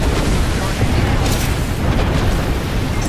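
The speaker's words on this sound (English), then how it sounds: "Calling the Airstrike on route" An Apex Legends airstrike sends a dense, continuous rumble of heavy booming explosions close and loud, with no clear gaps between blasts.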